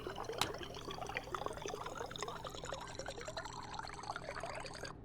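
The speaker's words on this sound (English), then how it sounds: "But let's get that water going. Fill up these water bottles." Water pours into bottles in the video game Stationeers, a continuous trickling, splashing stream that fills the clip without talk.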